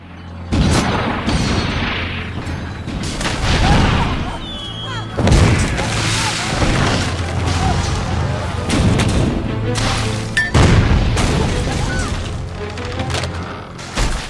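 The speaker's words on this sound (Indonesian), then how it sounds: "pasukannya langsung menembakkan meriam London buatan penjajah tersebut" Loud booming blasts of cannon fire in a film battle scene erupt several times amid crashing impacts and chaotic noise, with voices shouting in the mix.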